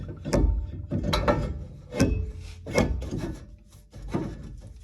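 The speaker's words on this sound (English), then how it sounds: "We'll put the new rotor, put it on." A new brake rotor goes onto the rear hub of a 2015 Silverado: a handful of loud, close metallic scrapes and clunks follow one another about a second apart, with no voices.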